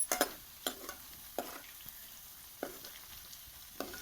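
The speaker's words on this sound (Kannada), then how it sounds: "ಎಣ್ಣೆ ಅಂತೂ ಕಾಯ್ದದ. ಈಗ ಈ ಥರ ಬಿಡಾಕತ್ತೀನಿ ನೋಡ್ರಿ. ಇವು ಚಂದಾಗಿ ಫ್ರೈ ಮಾಡ್ಕೊಳಲ್ರಿ." Battered cauliflower pieces for gobi manchurian dropped into hot oil, each piece setting off a brief bubbling hiss at a steady spacing over a faint, low background sizzle, with no talking.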